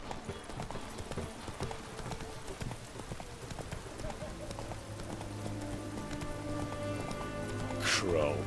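Roach the horse's hooves in The Witcher 3 clop in a quick steady rhythm under light rain-like patter, with someone speaking briefly over the hoofbeats and a sharp sound near the end.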